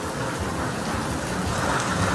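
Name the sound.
rain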